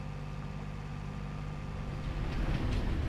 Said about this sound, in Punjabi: ਉਹ ਟ੍ਰੇਨ ਆ ਗਈ ਓਏ